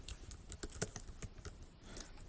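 Quick, uneven clicking of computer keyboard keys as a search query is typed, close and fairly soft, with no voices.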